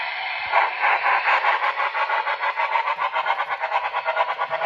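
A model train locomotive at speed step 15 gives a rapid, steady chuffing sound through a small speaker, with quick regular puffs pulsing close and fairly loud and no talking.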